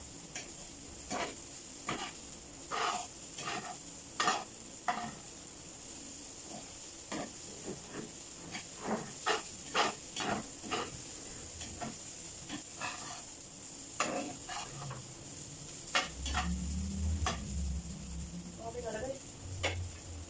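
Kimchi stir-frying in a pan for kimchi fried rice, with a steady sizzle and repeated sharp scraping and stirring knocks of a utensil against the pan, and some talk near the end.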